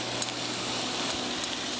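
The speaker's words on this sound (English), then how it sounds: "Ruthie, I think we should help this frying along a little" Chicken frying in a pan on a stove, a continuous bright sizzle with a few soft clicks and stirring scrapes, close and fairly loud.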